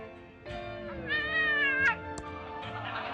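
A cat meows on a TV show inside the 2017 adventure game Thimbleweed Park, one long, rising and falling meow that rings out clearly over quiet background music, followed by a brief click.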